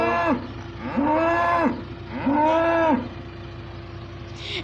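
Two long, loud moos from a nearby cow on a farm, evenly spaced, over a low rumbling background.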